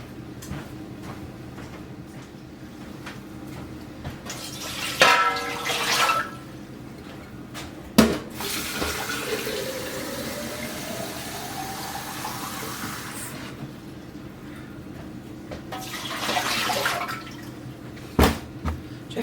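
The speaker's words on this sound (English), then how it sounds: "So I'm going to put in 2 quarts of hot water and get that starting to heat up." Hot water poured into a pressure canner set up for steam canning, heard as close splashing and filling bursts with a rising gurgle, then quieter stretches and a couple of sharp knocks.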